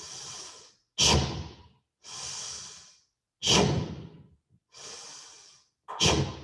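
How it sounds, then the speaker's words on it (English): Breathing during a strength and balance exercise session, alternating slow inhales and sharp forceful exhales through the mouth, about six breaths in steady rhythm, close and clear. "inhale on your lowering phase, exhale through the mouth on your work phase"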